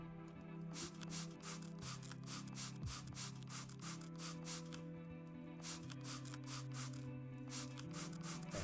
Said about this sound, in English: nothing happens if I spray the